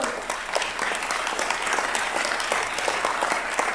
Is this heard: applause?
yes